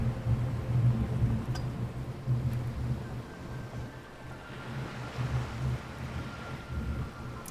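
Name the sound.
thunder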